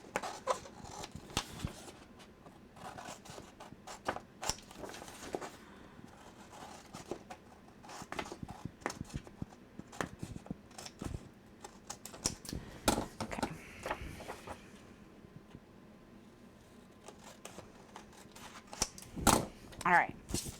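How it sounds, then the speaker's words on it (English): Large scissors roughly cut paper along a drawn line in sharp irregular snips, with rustling paper and a voice talking softly now and then. "I'm going to take my large scissors and just roughly cut on that line that I just drew."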